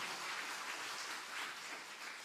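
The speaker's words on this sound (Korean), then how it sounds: "우리 3040 부모님들을 격려하면서 축복의 박수 한번 보내기를 원합니다." A church congregation at Seogwipo Central Church applauds together, a steady, dense clapping that holds at an even level for a couple of seconds with no voices on top.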